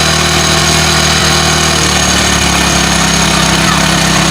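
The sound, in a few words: motorcycle engine idling during air-fuel mixture adjustment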